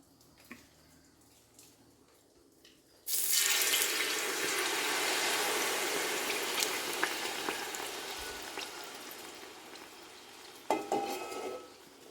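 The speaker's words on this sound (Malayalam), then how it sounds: "ഇതിലോട്ടിന് ശർക്കര പാനി ഒഴിച്ചു കൊടുക്കാം" Hot jaggery syrup is poured into a pan for Onam ada pradhaman, a sudden loud broadband sizzling rush that starts abruptly and stays steady for several seconds before tapering, with a brief louder burst near the end.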